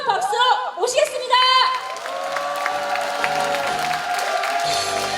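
Audience applause and cheering at a Korean school support workers' union cadre conference, rising to welcome an organizing director to the stage, with voices and whoops mixed into the clapping, steady and fairly loud throughout.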